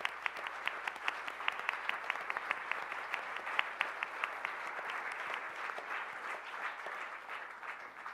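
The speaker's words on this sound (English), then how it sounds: "how about a round of applause for Maureen Weiss?" Steady audience applause fills the lecture hall for a newly hired scholar, a dense, even patter of many hands at moderate distance that carries on without a break and fades slightly toward the end.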